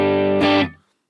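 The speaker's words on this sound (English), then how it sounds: "here it is, bypass with the clean tone of the PV512 clean sound." A short electric guitar phrase played with a clean tone from a PV512 amp, Headrush pedal bypassed: sustained harmonic notes, a fresh strum midway, then a quick decay into silence, with no talking.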